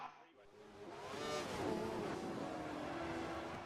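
Formula 4 race cars battle wheel to wheel on the Montreal circuit, engines revving and rising in pitch as they pass close by, with commentators talking over the roar.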